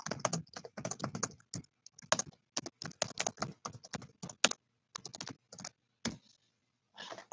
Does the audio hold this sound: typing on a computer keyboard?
yes